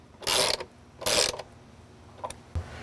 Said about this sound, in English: and ratchet them down to where they're snug